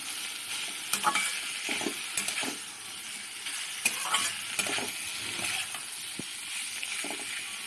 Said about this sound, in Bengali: লতিগুলো খুব সুন্দর করে আস্তে আস্তে মশলার সাথে মিশিয়ে দিতে হবে।